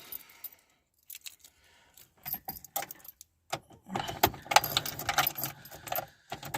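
Car keys jangle and clink in bursts while the right key for a Wartburg 1.3 is sought, with quiet pauses between rattles and a busier flurry of metallic jingling near the end.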